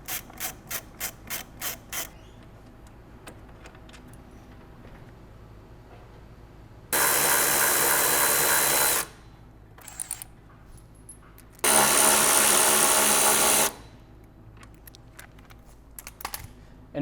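A ratchet removes a bolt from the rear wing assembly of a Porsche 991.1, quick rapid clicks up close followed by two long, loud bursts of buzzing mechanical whirring and a few scattered clicks.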